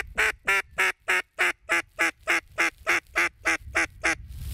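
A duck calls out in a rapid, regular run of about a dozen loud, nasal quacks during a duck hunt in Australia, close and clear over a quiet outdoor background.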